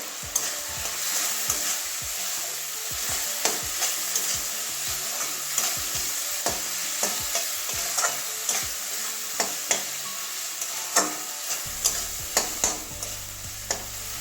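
Potatoes being stir-fried in a pan, with a soft background sizzle broken by frequent sharp scrapes and clicks of a spatula against the pan in an uneven rhythm, close and without talk.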